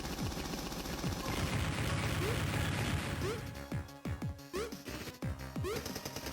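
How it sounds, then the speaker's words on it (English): Uzi gunfire in the Jazz Jackrabbit video game, rapid bursts of shots over a dense, busy game soundtrack, then sharper separate cracks and blips as the music thins out, with a voice speaking at points. "We'll take them out with the Uzis."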